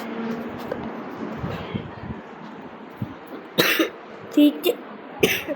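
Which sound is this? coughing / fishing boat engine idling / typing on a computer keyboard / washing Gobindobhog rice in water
coughing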